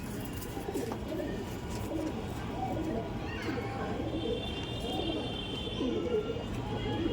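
A female pigeon coos softly among other pigeons in a loft, low repeated cooing under steady background noise, with a faint higher chirp partway through.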